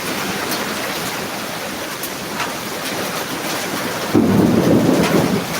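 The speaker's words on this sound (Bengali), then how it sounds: "আমাদের চুয়াডাঙ্গা জেলায় প্রচুর শিলাবৃষ্টি হচ্ছে" Heavy rain with hail pounding down during a spring storm at a market in Chuadanga, a dense continuous roar that swells louder near the end, with deep rumbling underneath.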